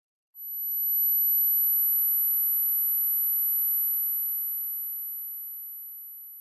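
A simulated tinnitus ringing tone: a single high, pure whistle that swells in quickly, holds steady and alone, then slowly fades a little toward the end.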